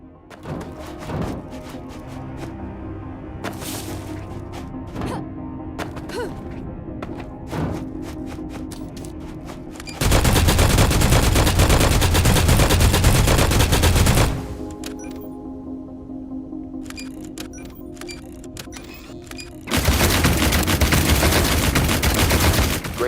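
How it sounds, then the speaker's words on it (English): A plasma weapon fires at targets in the sci-fi third-person shooter AI Olympius: scattered single shots first, then two loud sustained bursts of rapid fire, each lasting several seconds. "Switch the weapon to second mode and shoot down the target with plasma."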